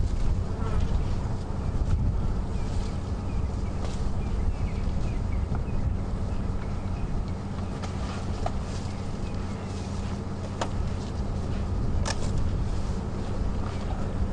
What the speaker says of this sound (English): I want you to listen to the cicadas calling.